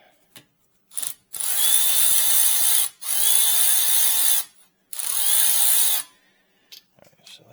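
A Milwaukee power tool spins off a rear brake caliper bolt on a 2018-2022 Chevy Equinox, firing in three sharp, loud whirring bursts of about one to one and a half seconds each, separated by brief pauses and a few small clicks.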